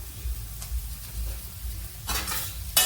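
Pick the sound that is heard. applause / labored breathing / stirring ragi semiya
stirring ragi semiya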